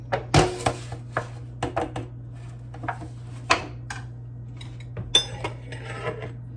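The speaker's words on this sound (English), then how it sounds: "take a scoop of my sauce and I'm gonna ladle it in the pan" Ladling lasagna sauce into an aluminum pan gives scattered metallic clinks, scrapes and thuds of the ladle against the pan, irregular and close, over a low steady hum with no voices.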